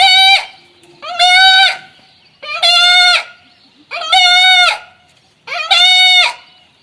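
A man imitates a goat's bleat with his voice, giving five loud, close, quavering calls of about a second each, spaced by short pauses.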